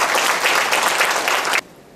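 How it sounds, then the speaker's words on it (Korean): Audience applause at an environment and safety award ceremony, dense, loud clapping that runs evenly and then cuts off abruptly to near silence. "우리 모두 박수 한번 부탁드리겠습니다."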